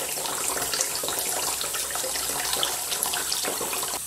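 A homemade aspirator vacuum pump built from plumbing parts runs on tap water, giving a steady, even hiss and rush of flowing water at moderate loudness with no speech.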